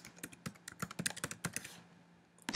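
Quick keystrokes on a computer keyboard patter in an irregular burst, close and fairly quiet, then pause briefly before a final sharp tap.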